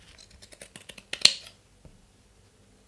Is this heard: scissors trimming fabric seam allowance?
yes